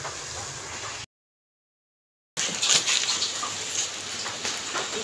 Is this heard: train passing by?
no